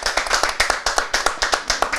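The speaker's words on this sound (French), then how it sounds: "Applaudissez, applaudissez davantage pour toutes les candidates parce qu'elles ont bien travaillé." Studio audience at a televised makeup competition claps for the contestants, a fairly quick, steady run of sharp hand claps standing close and clear with no talk over it.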